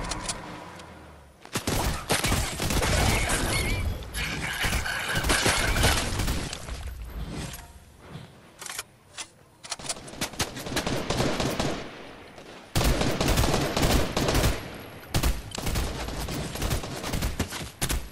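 Heavy, near-continuous gunfire in a solo Fortnite match, loud rapid bursts with a few brief lulls, mixed with crashing and breaking impacts.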